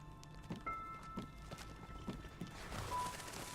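Horses in the video game Enderal, a Skyrim mod, clip-clopping at a slow walk, hooves landing in an even rhythm at moderate distance over a soft ambient background.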